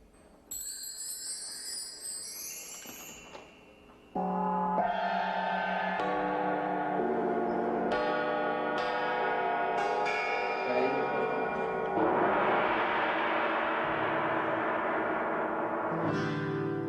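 Chimes struck during a concert sound check, first a bright high tinkling run, then sustained ringing bell tones that layer and hang in the air, clear and fairly close with little else around.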